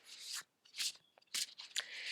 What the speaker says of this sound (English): So I'm going to begin to shuffle.